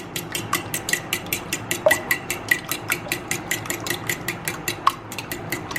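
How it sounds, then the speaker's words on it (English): Three eggs whisked in a bowl for a Manipal bun masala, with fast, regular metallic clicks and taps of the whisk against the bowl, close and continuous. "So I'm going to whisk it slightly."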